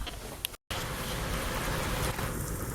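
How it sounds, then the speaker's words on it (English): Heavy rain pours down outdoors in a steady, dense wash that holds for the whole stretch, with one very brief dropout early on and no voices. "With rain, it always looks and sounds worse than what it really is."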